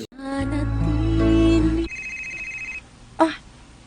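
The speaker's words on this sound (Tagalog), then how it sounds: "Ah, may nanawag sa imong cellphone, Gang." A cellphone rings with a loud sustained electronic tone, then a short second melodic phrase follows before cutting off, with no one speaking.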